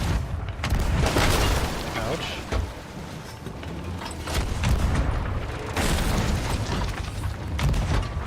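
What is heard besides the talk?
ship cannons firing in the video game Sea of Thieves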